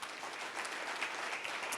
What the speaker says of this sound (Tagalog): Mahina palakpak.